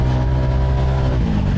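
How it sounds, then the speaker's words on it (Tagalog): Honda Click 160 scooter exhaust, its tone changed, droning steadily and loudly on a narrow, bumpy road, with a continuous low rumble and no pauses. "Nag-iba yung tunog ng tambutso ko."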